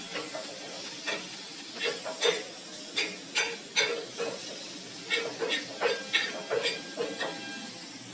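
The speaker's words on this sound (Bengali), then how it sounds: "ওই সবজি এখন একটু হালকা করে ভাজি নিব" Cut vegetables with capsicum lightly frying in a pan, a soft steady sizzle broken by a series of rhythmic stirring scrapes, fairly quiet throughout.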